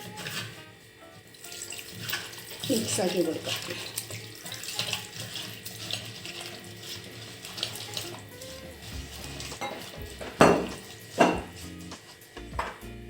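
Water poured into a pot of clam and raw mango curry with turmeric, coconut oil and salt, heard as a few close splashing gushes between quiet kitchen clatter, with someone speaking briefly.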